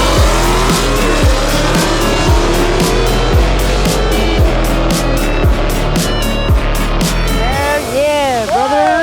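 Two street cars with aftermarket intake and exhaust launch side by side in a drag race, engines roaring loud and close with rising revs, a tire squeal, and voices cheering underneath.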